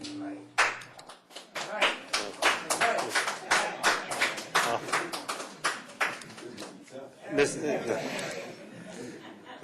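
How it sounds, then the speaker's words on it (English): Audience clapping at a candidates' forum: a run of sharp, uneven claps and some laughter, fairly close, with voices talking over and between them. "we don't need to clap all the time"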